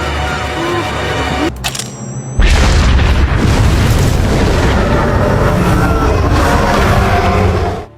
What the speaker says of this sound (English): A powerful explosion wounds the dragon